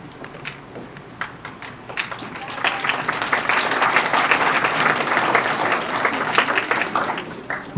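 Audience applause welcomes a speaker to the stage at a school talk, starting as scattered near claps and swelling into dense, steady clapping from the crowd.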